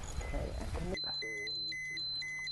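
Radiation dosimeter alarm near the ruins of Fukushima, sounding as repeated high electronic beeps in short bursts after a few seconds of people talking, with a steady low hum underneath.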